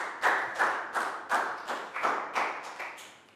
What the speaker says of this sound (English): High five and a big round of applause for Preo.